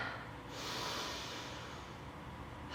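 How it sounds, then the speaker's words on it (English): A single slow, deep breath drawn in and let out during a quiet vinyasa yoga pose, soft and close with a breathy hiss, heard alone without any talking. "One more deep breath here."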